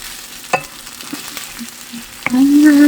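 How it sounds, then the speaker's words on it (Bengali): Taro roots fry in a pan for a hilsa fish curry, making a soft, low sizzle broken by a few sharp utensil clicks, before a musical tone enters near the end. "ভাজা হোক।"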